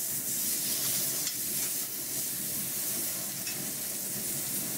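Filet steak, about 4 to 4.5 cm thick, sears in a hot pan with a loud, continuous sizzle and hiss, occasional sharper crackles as it is flipped, no talking.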